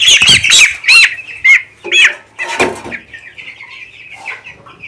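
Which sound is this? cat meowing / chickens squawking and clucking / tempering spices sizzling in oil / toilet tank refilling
chickens squawking and clucking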